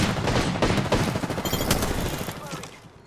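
Rapid bursts of automatic gunfire in the video game Apex Legends, a dense fusillade of shots crackling loudly in quick succession before thinning out toward the end.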